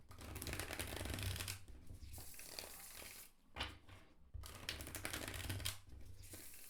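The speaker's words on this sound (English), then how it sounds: "Let me show you the shuffling." Tarot cards are shuffled twice in quick riffling bursts, a soft papery flutter close by, with a short pause between the two shuffles.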